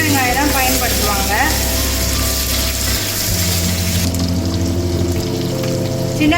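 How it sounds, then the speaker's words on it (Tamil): Small shallot onions sauté in a pan with a steady, loud hiss of frying and occasional scraping, filling the whole stretch without pause. "சின்ன வெங்காயம் போட்டு நம்ம நல்லா வதக்கிக்கிட்டு இருக்கோம்"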